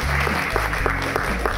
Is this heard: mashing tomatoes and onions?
no